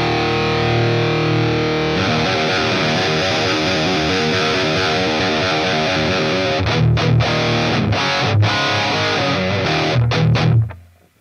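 Distorted electric guitar through a Line 6 Helix amp model with the microphone placed close to the cab, a heavy sustained chord giving way to chugging palm-muted riffs, loud and continuous, then cut off at the end.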